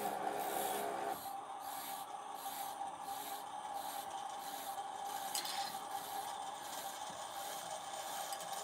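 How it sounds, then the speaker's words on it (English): A bobbin winder spins a sewing bobbin with a steady, quiet whirring hum that runs unbroken throughout, a little louder in the first second, with no one talking. "I have a bobbin winder that I use."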